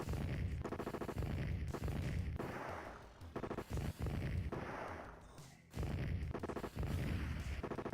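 Rapid gunfire from a VR light gun shooting game rattles in loud bursts, with short pauses and quieter stretches between volleys, nearly continuous across the whole stretch.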